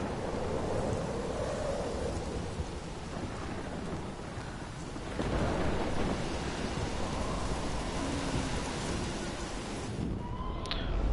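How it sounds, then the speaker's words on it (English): Heavy rain and rolling thunder from a storm in the video game Life Is Strange, a steady loud downpour with a swelling thunder rumble midway, no voices. "I've never seen a storm like this in America."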